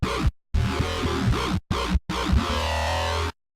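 Synthesized bass patch from Synth1 with equalization applied, a gritty buzzing tone with wobbling pitch sweeps, played in several short bursts separated by brief silences, loud and alone.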